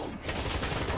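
An automatic turret firing in the zombie shooter World War Z, in a tunnel, as a continuous rapid stream of loud shots packed tightly together for about a second.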